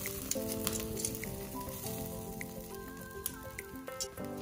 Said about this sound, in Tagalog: Uulitin kong ihawin itong tenga, mukhang hilaw pa.